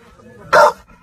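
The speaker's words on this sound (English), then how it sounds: "Whoa, that's a dog?" A single sharp dog bark from inside a car, loud and close, breaking through a quiet background with faint low rumble.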